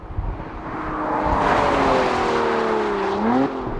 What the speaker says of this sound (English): It makes its power and sounds very different than any V6 that I've heard.